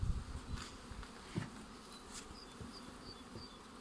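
Honey bees buzz around an open beehive as the hive body is lifted and brood frames are moved, a faint, close, wavering hum with a few brief louder passes, without talking.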